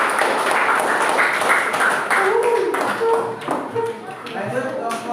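A classroom group of presenters gets a short burst of applause from classmates, a dense patter of claps lasting several seconds with faint voices mixed in.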